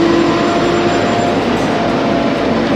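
A train pulling into a station in Switzerland, a steady loud rumble with a sustained whine held throughout, no voices over it.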